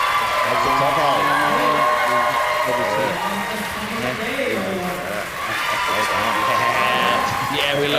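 Spectators at a national lead climbing championship cheer and clap for a climber on the wall, a sustained crowd roar with commentators talking over it throughout.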